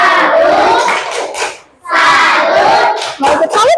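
A class of children loudly chants the 'tepuk salut' clapping chant in a school lesson, two bursts of shouted rhythmic voices with claps, a brief dip between them.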